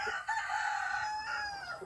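A rooster crows once on a farm where mango trees are being trimmed, a single long, clear cock-a-doodle-doo that rises and holds, fairly close and loud with no talking.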